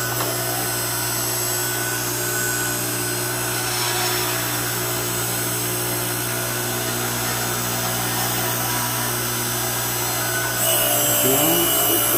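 A powerful electric vertical log splitter runs as a steady, loud mechanical hum with a constant low drone, splitting firewood close by. A brief louder burst of grinding comes near the end, with no talking.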